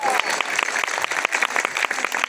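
Congregation applause during a church sermon: brisk, close clapping from a group, with distinct claps in a quick irregular rhythm over roughly two seconds.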